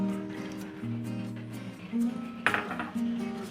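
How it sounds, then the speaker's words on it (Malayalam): A spoon stirs vermicelli pudding in a pot after cornflour mixed in milk is added, giving soft scraping and a few metallic clinks against the pot, close and fairly quiet, with no voices. "ഇനി ഇത് നന്നായിട്ടൊന്ന് മിക്സ് ചെയ്ത് കൊടുക്കാം."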